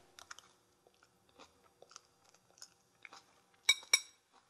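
Close crunchy chewing of a jeweled quinoa salad with pistachio, soft irregular bites and mastication clicks, ending with two louder crisp crunches.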